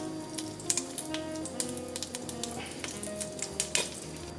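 Vegan Beyond sausage links frying in oil: a steady, close crackling sizzle with scattered pops, with no talk over it.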